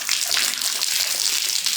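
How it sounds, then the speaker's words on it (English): Water rinsing out a horse's mouth during a dental check at an intake assessment, a steady splashing gush that runs continuously and close, without talk. "Rinse. Big rinse."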